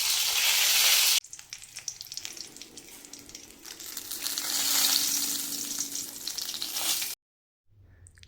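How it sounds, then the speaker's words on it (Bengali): Whole cumin, cinnamon, cardamom, dried red chillies and bay leaves sizzle in hot oil left from frying potatoes, a steady close crackle with stirring scrapes, cut off near the end. "আলু ভাজা হলে ওই তেলেতেই জিরা, দারচিনি, এলাইচি, শুকনো লঙ্কা আর দুটো তেজপাতা দিয়ে দেবো"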